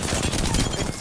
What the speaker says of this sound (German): Neues Team, ja, neue Schüsse.